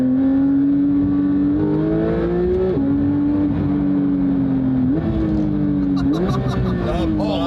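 A Koenigsegg Jesko accelerates hard on an open road, its loud engine note climbing steadily and dropping at each of several quick gear shifts, heard from inside the car.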